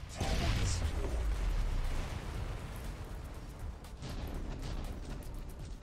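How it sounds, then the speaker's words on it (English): Magnesium bombs bursting against towers in the XMorph Defense video game, a heavy rumbling explosion up front followed by further muffled blasts and debris noise, with some voice under the din. "Fire magnesium bombs against the X-Morph towers."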